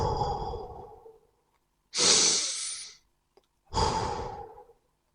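Slow meditative breathing heard close and alone, a long exhale tapering off, then two deliberate breaths, each starting with a soft rush and fading after about a second, with quiet pauses between.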